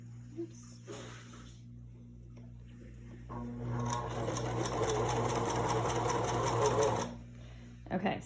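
A sewing machine stitches down the short side of a fabric face mask with elastic sewn in, a steady mechanical whirring run of about three and a half seconds after quieter handling, with a voice talking over it.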